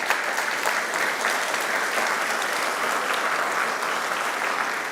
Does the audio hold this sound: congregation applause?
yes